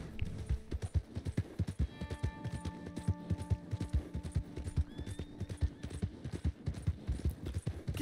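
Horse hooves clip-clop in a steady, fast gallop in Red Dead Redemption 2 Online during a posse bounty hunt, with an occasional whinny and brief faint talk.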